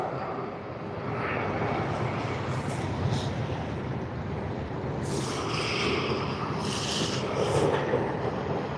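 China Eastern Airlines airliner at Sydney Airport on a sunny day, a steady broadband jet engine roar at moderate distance with rising higher whine toward the end, no talk.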